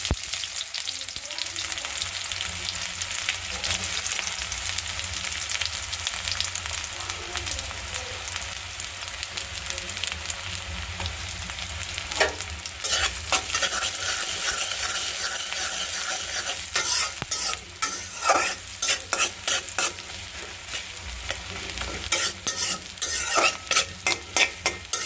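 Small fish frying in mustard oil with garam masala, sizzling steadily and close while being stirred, with scraping stirs and utensil clinks growing busier in the second half.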